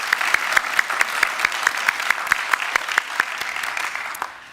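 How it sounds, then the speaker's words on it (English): Audience applause fills an investiture ceremony hall, steady dense clapping with regular sharp accents throughout, fairly near and loud, tapering at the very end. "Yeah, we can clap for that."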